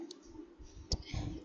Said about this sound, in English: clicking the start button, it will display a start menu and a tile based start screen